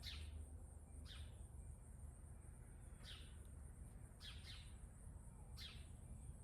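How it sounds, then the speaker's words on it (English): Faint, high chirps from a small bird, a handful of quick calls scattered at intervals over a low, steady background hum. "I can hear that little chirper"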